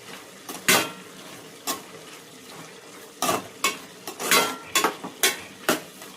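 A spoon clanks and scrapes against the pan as coriander is stirred into cauliflower curry, sharp irregular knocks over a soft background sizzle, close and without voices.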